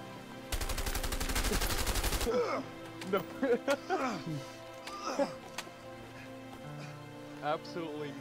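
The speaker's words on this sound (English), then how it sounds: "Absolutely no cover, straight bullet fire." Rapid automatic gunfire in the video game A Way Out, a loud sustained burst of about two seconds, then voices talking over a faint game background.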